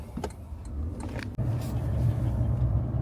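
Steady road rumble and engine drone inside a lifted Toyota Tundra with a twin-turbo V6 cruising along on a road trip, a low continuous hum with a brief thump partway through.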